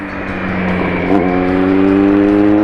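A Kawasaki Z900 motorcycle exhaust roars loudly and steadily nearby, the engine note rising briefly with a throttle blip before settling into a sustained rumble.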